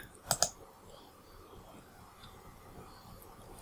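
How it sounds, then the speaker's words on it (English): A computer mouse clicked twice in quick succession, crisp near clicks in a quiet room, followed by faint low background noise. "Let's click on that."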